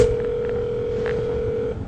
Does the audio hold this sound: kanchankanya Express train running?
no